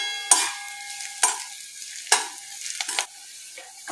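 Onion and green chili frying in a pan while being stirred, with repeated sharp scraping strokes of a spatula over a steady low sizzle, four or five distinct stirs close up.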